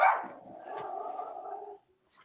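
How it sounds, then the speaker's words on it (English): A dog barks and whines excitedly: one sharp yelp, then a long, wavering, howl-like whine that trails off. It sounds fairly close, with no talking over it. "it was his dog that was going crazy"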